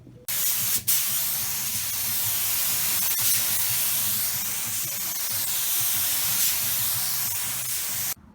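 A continuous close hiss of a spray gun laying primer coats onto a car hood, running steady for about seven seconds with a brief break near the start, alone without talk.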